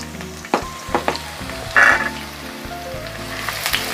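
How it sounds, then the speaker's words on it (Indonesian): Thinly sliced garlic sautéing in oil for a sweet soy tofu stir-fry, a continuous close sizzle broken by a few sharp pops and spatters, with clanks of stirring, no voices. "Saya tumis terlebih dulu. Bawang putih yang sudah diiris tipis"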